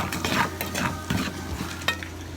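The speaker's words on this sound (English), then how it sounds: "Alright, now I'm going to stir the meat. It's starting to pop, so it's getting crispy, it's cooking, it's browning." Meat for jambalaya, sausage and pork belly, stirred in a hot pot, with steady sizzling and popping and a few scraping strokes of a spoon against the metal.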